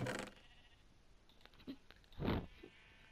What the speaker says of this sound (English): Also, I can like hear like the sheep in the background.